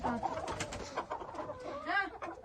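Chickens cluck and squawk in a rapid, continuous stream of short, warbling calls, fairly close and moderately loud.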